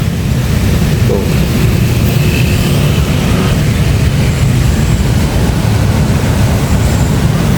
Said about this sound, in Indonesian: Hanya arusnya yang cukup keras ini.